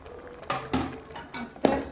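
Nigerian okra soup with crayfish, pepper and red oil stirred in a pot, a few distinct scrapes and knocks of a spoon against the pot, close and moderately loud, in separate strokes.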